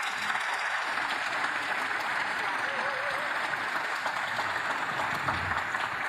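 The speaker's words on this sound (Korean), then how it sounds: "크게 박수 한번 부탁드립니다." An audience applauds at Korea's 77th Constitution Day ceremony, a dense, steady clapping that holds evenly through the whole stretch without pause.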